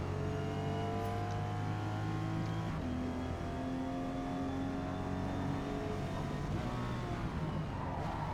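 Toyota Supra GR racing at Homestead Miami in the Forza Motorsport video game, a steady engine drone with rising and shifting tones through gear changes, fairly quiet and without talk.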